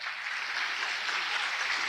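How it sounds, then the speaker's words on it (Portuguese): A church congregation claps loudly for the Lord, a dense, even wash of applause filling the room throughout. "Aplauda bem forte ao Senhor."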